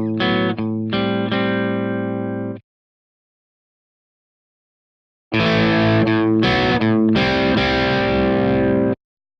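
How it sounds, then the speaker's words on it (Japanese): A crunchy distorted electric guitar tone from a Kemper Profiler with its mid EQ adjusted plays two loud, close chord phrases, the first ringing out, then a pause of silence before a busier strummed passage. "クランチサウンドを使ってミッドの値を変えてみましょう。"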